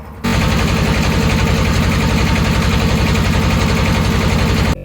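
A boat engine on Kaptai Lake in Rangamati runs at a loud, steady, rhythmic chug, close and continuous throughout with no talk.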